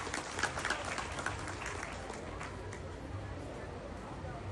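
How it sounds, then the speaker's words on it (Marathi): Clapping from a crowd at a Marathi gathering honouring a guest, a busy spattering burst that thins into a softer continuous patter over several seconds. "त्यांच्यासाठी आपण या ठिकाणी जोरदार टाळ्या वाजवल्या पाहिजे"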